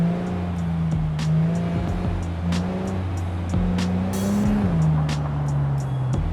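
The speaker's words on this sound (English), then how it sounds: "I'm gonna continue driving because this is about to get a little intense." Racing car engine droning at steady high revs in a driving game, with shifting pitch, short tire squeals and skids, loud and continuous throughout.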